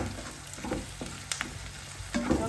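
Ginger sizzles and crackles in a hot pan for a curry, a soft steady fry broken by scattered pops and a couple of stirring scrapes, close and fairly quiet.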